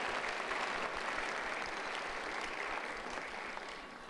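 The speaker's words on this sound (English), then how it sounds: "Round of applause." Applause fills a banquet hall at a volunteer appreciation event, a steady dense clapping from a large crowd that holds for several seconds and then begins to fade.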